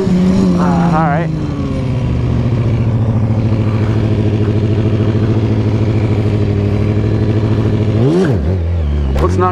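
A stunt motorcycle revs hard during wheelies. Its loud, close engine drones steadily, rises in pitch, drops, then surges again near the end.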